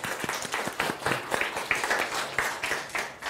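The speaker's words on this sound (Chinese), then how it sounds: "再给小班一掌声，谢谢。" A conference audience at the g0v summit 2020 claps for a speaker, a moderate round of overlapping hand claps filling a hall with steady, even applause throughout.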